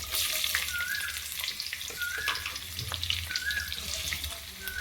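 Onions fry in cooking oil in a pan with a steady, close crackling sizzle, interspersed with light clinks and a faint wet bubbling.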